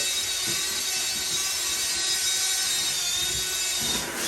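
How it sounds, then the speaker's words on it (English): A drill fitted with a mixer paddle churns unsanded tile grout for a bathroom tiling job, giving a steady, loud, unbroken whirring hiss for the full stretch with no talking. "I'm showing you, okay, with the paddle. How to mix this up."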